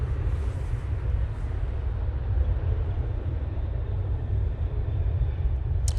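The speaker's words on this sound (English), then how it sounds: "Ryanair now on the roll." A Ryanair airliner on its takeoff roll at Manchester Airport gives a steady, broad engine rumble that holds constant throughout, heard from a distance with no voices.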